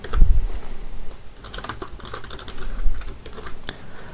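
Keys clatter on a computer keyboard as Python dictionary code is typed, a close, uneven stream of quick taps with brief pauses and no voices.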